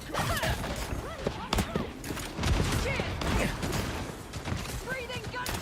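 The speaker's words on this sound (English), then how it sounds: "Those guys are about to shoot at us." Gunfire from a video game shootout, bursts and sharp cracks scattered through dense game sound effects, with people talking over it much of the time.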